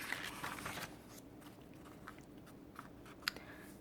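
A fairy chews bubblegum, with soft, close, moist chewing and a few small crunchy clicks spread over several seconds in quiet surroundings.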